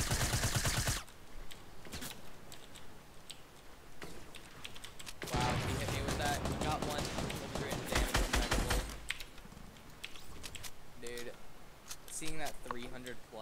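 Rapid bursts of video game gunfire crackle in dense volleys during a duo match, with players talking over the shooting and keyboard clatter mixed in.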